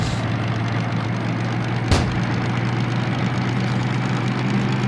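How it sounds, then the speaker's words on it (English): A steady, low locomotive engine drone in a train simulator video game runs throughout, idling and rumbling evenly, with one brief sharp burst near the two-second mark. "Let's get some engine noise."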